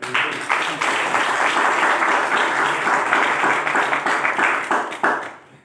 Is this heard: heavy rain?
no